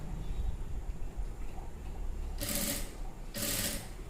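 Sewing machine stitching piping around a blouse neck, a quiet ambient background broken by two short loud bursts of rapid mechanical stitching chatter, each about half a second long.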